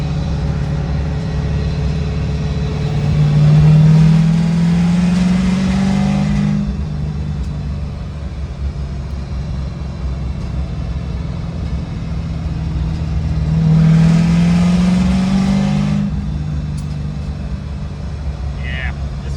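A 1967 Chevrolet Nova with a swapped 5.3 LSA engine accelerates from inside the car, the engine note climbing in two long rising pulls several seconds apart, loud and close over a steady road drone, with someone talking between them.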